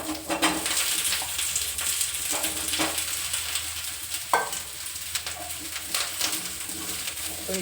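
Washed mushrooms sizzle and fry in a hot pan for a mushroom pepper dry, with steady crackling broken by scraping stirs of a spatula and a few clinks, close and fairly loud, no talking.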